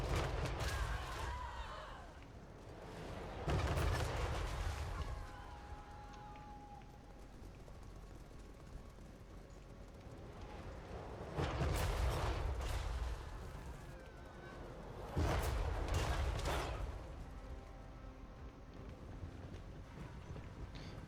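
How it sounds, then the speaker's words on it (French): Cannonball artillery in the Total War Warhammer battle game, heard as several heavy booming volleys at intervals over a continuous battlefield din. "J'aime trop l'artillerie de Katei."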